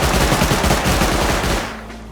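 Rapid pistol gunfire in the video game Rust rattles in a dense, continuous burst, loud and close, then cuts off abruptly near the end.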